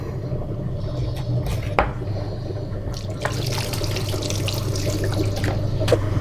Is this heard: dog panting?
no